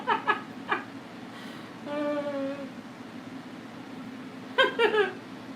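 A pet cat makes odd vocal noises nearby, a few short chirps followed by a drawn-out moaning yowl and then a burst of quick trilling calls, fairly quiet against a faint room hum.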